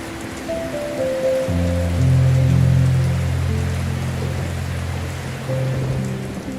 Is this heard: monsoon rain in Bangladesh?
yes